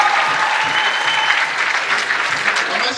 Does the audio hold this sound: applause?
yes